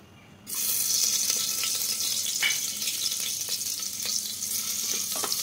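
Butter drops into hot white oil in a pressure cooker and erupts into a sudden loud sizzle, then holds a steady close crackling hiss with occasional small pops.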